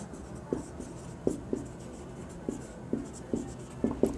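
Chalk tapping and scraping on a board during a Bengali chemistry lesson, a string of short, sharp strokes spaced irregularly, fairly close and with no talk over them.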